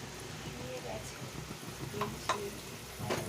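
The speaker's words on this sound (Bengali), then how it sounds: "যে পেস্ট করে রেখেছিলাম কাজু বাদাম টাদাম দিয়ে ওইটা আমি এর মধ্যে দিয়ে দিলাম" Cashew nut paste stirred into chicken chaap frying in a pan, a steady soft sizzle with scraping stirs and a few sharper clinks, under a voice.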